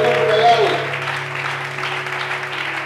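Church congregation applauding and cheering in praise, a dense wash of clapping and voices that swells at first and then holds steady, with a sustained musical tone underneath.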